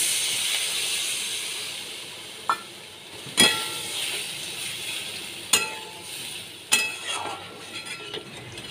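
Fish curry broth with Kashmiri chilli powder and water simmering in a pan, giving a steady bright bubbling hiss broken by a few sharp clinks from a utensil against the pan.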